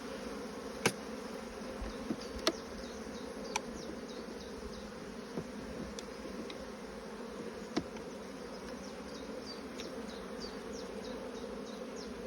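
A steady, dense buzzing of many honeybees at close range around an open hive, with a few sharp clicks and knocks over the continuous drone.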